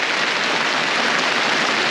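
Rain pouring outdoors over a garden where fruit saplings are being planted, a dense, steady hiss of heavy rainfall, close and uniform with no pauses.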